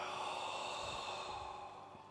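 A person exhales deeply and slowly during a qigong breathing exercise, a long breathy sigh-like rush of air heard up close, alone without speech.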